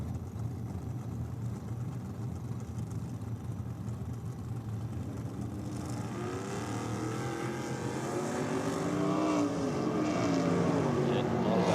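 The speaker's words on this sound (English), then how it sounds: "not a bad pass from Alston there in the Aeroflow lane" A drag racing car makes a pass on a no-prep track at an Australian event, heard as a distant engine roar rising in pitch and loudness over steady crowd and outdoor noise, with faint voices.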